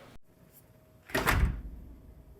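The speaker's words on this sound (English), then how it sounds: "Let me go ahead and show you how smooth it shuts now." A front door swinging shut after its hinges have been adjusted, giving one soft, solid thud with a short rattle that quickly dies away in a quiet room.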